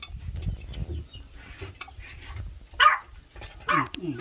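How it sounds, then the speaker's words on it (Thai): A dog barks twice at a short distance during a lunch out in the rice fields of a Thai farm, with soft clinks of cutlery and dishes around it. "ท่ามกลางบรรยากาศหมาเห่า"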